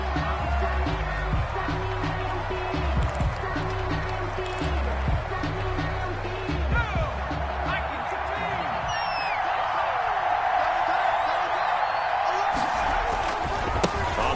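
A stadium crowd roars steadily through a video game football broadcast, a dense continuous wash of cheering with a rising swell near the end, under play-by-play commentary.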